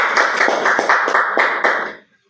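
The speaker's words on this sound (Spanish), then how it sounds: "Un aplauso para él." Applause for a guest being introduced on a Spanish-language debate podcast, a steady patter of hand claps with a few louder bursts, fairly close, lasting about two seconds before cutting off abruptly.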